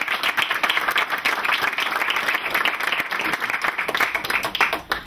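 An audience breaks into sustained applause to welcome speaker Dan Castro, steady dense clapping from a crowd throughout, close and fairly loud.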